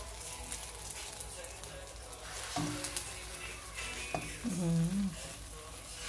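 Eggs sizzle and crackle as they burn in a hot pan, a soft continuous frying hiss with occasional scraping and clatter, while someone talks over the cooking.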